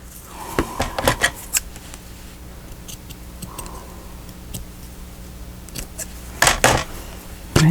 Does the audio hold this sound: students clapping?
no